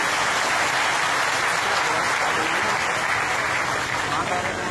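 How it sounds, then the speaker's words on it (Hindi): An audience at a formal ceremony claps loudly and continuously, a dense, steady roar of applause with voices mixed in. "एक बार जोर से तालियां बजा के चाहे"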